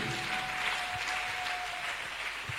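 A church congregation applauds for Jesus during a pastor's testimony, steady sustained clapping from a large crowd with a faint held tone underneath.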